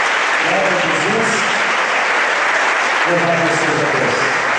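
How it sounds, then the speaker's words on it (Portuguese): Congregation applause during a church service in praise of Jesus, a loud continuous wash of clapping with a voice speaking over it in short sung or spoken phrases. "Vamos aplaudir o nome do Senhor Jesus."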